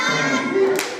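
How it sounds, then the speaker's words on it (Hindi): A group of children claps together during a chanted clapping game at a school fair, with their voices mixed in over one short burst. "अब उसको बुलाएंगे हम झकास ताली"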